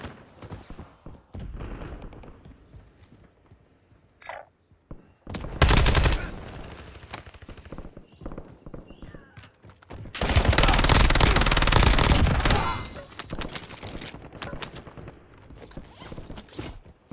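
Gunfire in the video game Warzone, with scattered single shots and clicks followed by two loud bursts of rapid automatic fire, the second longer, amid quieter in-game sounds.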